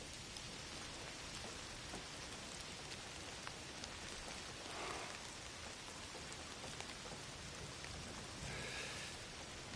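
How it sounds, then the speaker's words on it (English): Steady, dense rainfall patters evenly throughout, a constant hiss of drops with no voices, in the video game Indiana Jones and the Great Circle. "Don't you love rain?"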